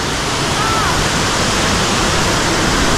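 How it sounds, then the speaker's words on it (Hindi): Langvoku Waterfall in Karbi Anglong, Assam roars nearby as a loud, constant, dense rush of falling water with no pauses, filling the whole scene. "वाह वाटरफॉल सारे"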